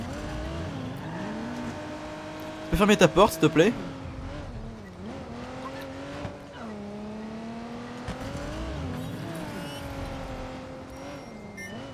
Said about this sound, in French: Elle tourne absolument pas cette bagnole.